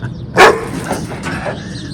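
Boxer dogs in a garage construction area give one sharp, loud, close bark, followed by a couple of fainter, softer yips and grumbles against low background noise.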